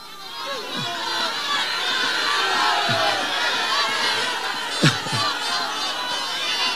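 Crowd shouting and chanting at the inauguration of the Moquegua FV solar photovoltaic power plant, a steady loud outdoor roar of many voices with a few sharper individual shouts rising above it.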